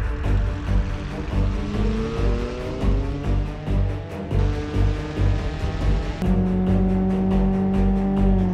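A damaged car in the BeamNG driving game accelerating flat out toward top speed: a loud, droning engine whose pitch climbs steadily, drops at a gear change, then climbs again, with wind and road noise underneath.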